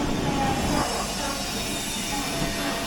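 The Mysuru-Shirdi Express pulls out of Hosapete station, a steady close rumble of railcars and wheels on track with a faint squeal, heard from on board.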